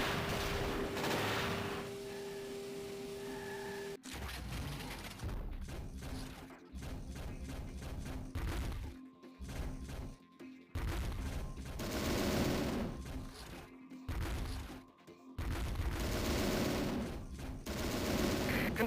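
Bursts of gunfire and fusillades fill a Transformers Autobots DS video game battle, with rapid machine-gun rattles and heavy thumps repeating loudly across the whole stretch and only brief gaps between volleys.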